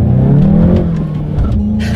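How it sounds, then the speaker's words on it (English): A 2019 Volkswagen Golf GTI with a six-speed manual pulls away hard from a red light, its engine note climbing steadily in pitch as it revs up through the gear, loud and close from inside the car. "let's do a quick little acceleration now that we're at a red light here, and let's see how quickly we can get this 2019 Golf GTI up to speed"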